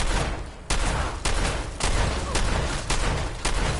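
Heavy shotgun blasts from the Fallout 3 gun fired at raiders in Fallout 4, about six loud booming shots at roughly half-second intervals, each with a short rumbling tail.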